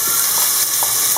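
Loud, steady hiss of a large onion frying in olive oil in a saucepan, a dense continuous sizzle close up with faint soft pops.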